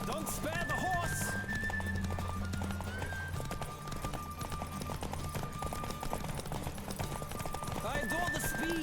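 A horse gallops steadily during a race in The Witcher 3 video game, with rapid clip-clop hoofbeats and neighing, and a rider's voice speaking over the fairly quiet scene.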